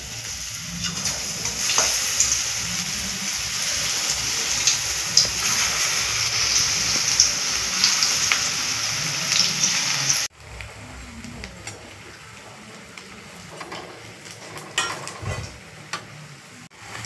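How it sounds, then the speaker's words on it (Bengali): Mushroom pakoras drop one by one into hot oil, raising a loud, bright, steady sizzle that later drops to a quieter crackle after an abrupt cut. "এবার আমি একটা একটা করে মাশরুমগুলো তেলের উপরে ছেড়ে দিচ্ছি।"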